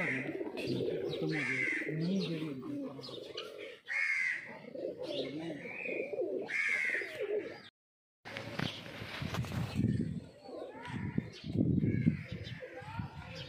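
Pigeons coo and flutter at a village loft amid steady outdoor chatter in Hindi, with several people talking nearby; a brief silent gap splits the scene partway through.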